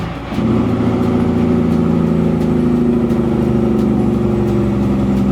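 A road train truck's engine droning after changing down gears, a loud, steady, deep rumble with a low hum that starts suddenly and holds close by, with no talking.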